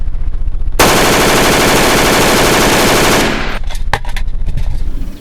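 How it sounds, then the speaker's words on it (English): Assault rifle fire, a loud sustained burst of rapid automatic shots lasting a few seconds, followed by a handful of separate sharp reports, close and dominant with no talking. "So get the assault rifle out, load the magazine,"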